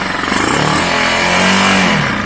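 A Chinese small-displacement motorcycle engine freshly fitted with a Nibbi PWK carburetor, revving loud and close with a buzzy, rising and falling drone over a couple of seconds.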